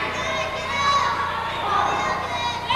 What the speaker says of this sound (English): the crowd is excited and on their feet right now